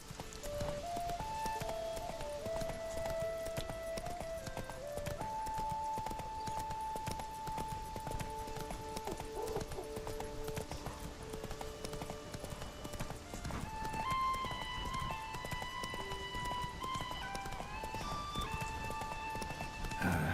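Hooves of the horse Roach in The Witcher 3 drum in a steady galloping clip-clop rhythm under a sustained musical score, moderately loud and continuous throughout.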